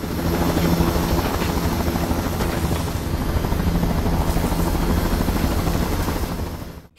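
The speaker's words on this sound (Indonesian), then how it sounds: "Michelle, Rami, dan Niklas bergegas keluar dari helikopter" A helicopter flies toward a building rooftop, its rotor giving a loud, continuous thudding roar that holds steady and then drops away sharply at the very end.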